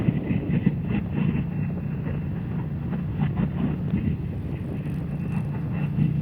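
Indian Scout Rogue motorcycle engine and exhaust while riding, a steady, mellow low drone held for the whole stretch, with wind rush over the microphone and no talking.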